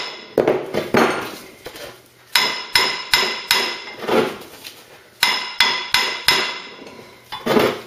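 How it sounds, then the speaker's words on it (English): Repeated metallic hammer blows on a part from a Mk3 Ford Cortina during restoration, coming in quick clusters of sharp, ringing strikes separated by brief pauses, loud and close with no talking. "Could use a bigger hammer. Could use a copper hammer."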